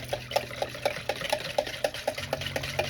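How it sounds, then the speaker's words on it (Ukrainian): Chocolate sponge cake batter with a pinch of salt being stirred in a bowl, about a dozen evenly spaced soft scraping strokes with faint utensil clicks, close and alone. "додаємо дрібочку солі, перемішуємо"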